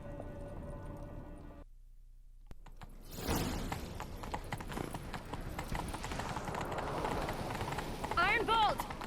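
In The Witcher 3, horses gallop in a chase, with rapid hoof clip-clop building after a quiet stretch, joined near the end by a short whinny.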